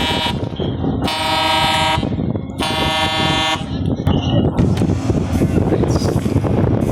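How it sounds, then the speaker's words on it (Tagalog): The MARIA OLIVA ferry sounds its horn in two long, loud blasts, each over a second long, then fainter honks follow amid wind noise, with people talking in the background. "So, busina talaga."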